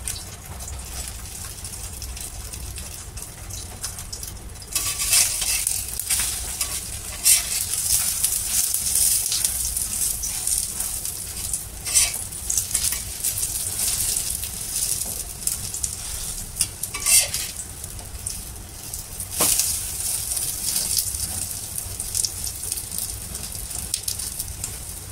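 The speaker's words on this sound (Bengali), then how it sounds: "তো ডিমটা হচ্ছে ভেজে নিয়েছি" An egg fries in a pan with a little chili powder and salt. A soft sizzle grows louder after a few seconds and carries on steadily, broken by scattered scrapes and clinks of a utensil.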